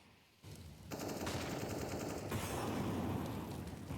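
Rapid overlapping gunfire in a CS:GO esports match, pistols among the weapons, loud and continuous bursts crackling after a brief quieter lead-in, with no talking.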